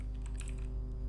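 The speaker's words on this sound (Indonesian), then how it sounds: "Ketikkan saja usermod" Someone types a usermod command on a computer keyboard, producing a brief run of soft, close key clicks over a steady low hum.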